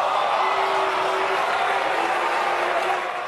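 Left-wing deputies in the French National Assembly boo Prime Minister Elisabeth Borne during her general policy speech, a dense, sustained crowd roar of many voices filling the chamber at steady volume throughout.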